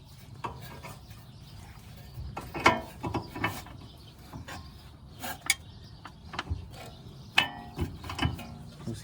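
Ratchet tightening hardware on car coilover suspension parts in a garage, with irregular bursts of clicking ratchet strokes and metallic clanks spread across the clip, fairly close and moderately loud.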